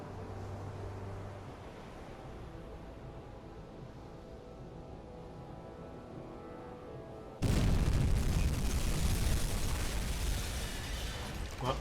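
A torpedo strikes a ship in a U-boat video game, a sudden loud, broad explosion that bursts out of a quiet rumble of sea and engine and then roars on.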